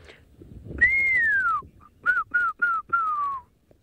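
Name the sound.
imitated African fish eagle call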